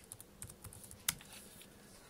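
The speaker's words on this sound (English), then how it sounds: "start typing." Typing on the keyboard of a Samsung NC110 netbook: quiet, close keystrokes tapping irregularly, with one sharper, louder key click midway.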